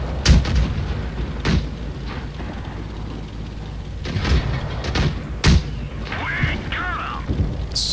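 Tank cannons firing in the World of Tanks Blitz game at tier 2, a handful of sharp booming shots spaced a second or so apart over a continuous engine rumble, with a faint voice under the action.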